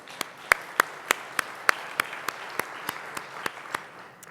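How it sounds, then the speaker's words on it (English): Scattered audience applause at a city government report event, a thin run of separate claps at an even pace, fairly near and moderate. "Let's give him a big round of applause."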